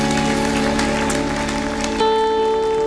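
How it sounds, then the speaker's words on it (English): A church congregation clapping hands in praise during a worship service, a dense, loud, continuous wash of applause with sustained organ or keyboard tones underneath, shifting chord partway through. "give God a hand clap of praise"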